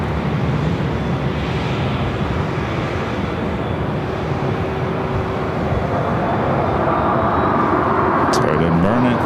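A jet airliner takes off from runway 4 Left at LAX, a loud broadband roar of engines that swells and holds, with voices talking over it.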